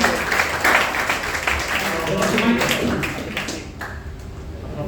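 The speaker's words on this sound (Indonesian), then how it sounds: "Boleh tepuk tangan?" Audience applause at a coaching seminar, a dense patter of clapping hands that stays fairly steady and thins slightly toward the end, with some voice activity mixed in.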